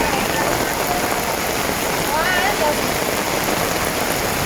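Heavy rain pouring down on a street market in Kunming, a loud, dense, unbroken roar of falling water, with faint voices mixed underneath.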